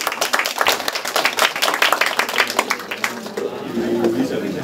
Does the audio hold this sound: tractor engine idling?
no